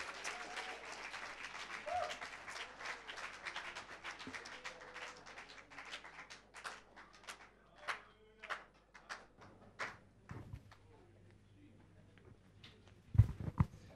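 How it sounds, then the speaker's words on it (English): Church congregation clapping, starting as dense applause and thinning into scattered individual claps that gradually fade, with a few louder thumps near the end. "Then clap your hands and tell him thank you."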